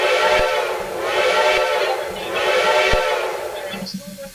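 Hooter locomotive whistle in Train Simulator Classic, sounding as three loud sustained blasts with short gaps, the last one trailing off into quieter background.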